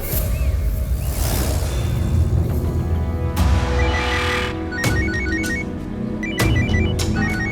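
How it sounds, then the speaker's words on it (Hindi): A mobile phone ringtone sounds in a TV crime drama scene: short, repeated electronic beeping bursts that come in the second half, partly buried under loud dramatic music and whooshing swells. "मेरा फोन बज रहा है।"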